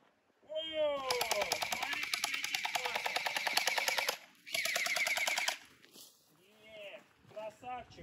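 Rapid bursts of an orbeez gel blaster pistol fired outdoors at an old site, a fast mechanical rattle in two long strings, with people talking before and after.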